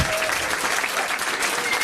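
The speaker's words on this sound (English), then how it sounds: "give them a round of applause for trying though" Audience applause at a trivia quiz night at The Yard: dense, steady clapping from a crowd, fairly loud and even throughout a short burst, with no voices over it.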